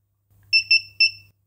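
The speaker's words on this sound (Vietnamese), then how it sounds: "bạn nghe thấy tiếng bíp nó sẽ kêu 3 tiếng nhá" A smart fan's timer control board gives three short electronic beeps, the first two close together and the third after a brief pause, clear and fairly faint over a low hum.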